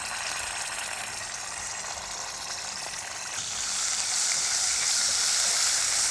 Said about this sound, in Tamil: இஞ்சி பூண்டை பேஸ்ட்டை நல்லா வதக்கிட்டு சும்மா 2 பெரட்டு நல்லா ஓரளவு கொஞ்சம் பச்சை வாசனை போக லேசாக பொரிஞ்சு வரணும்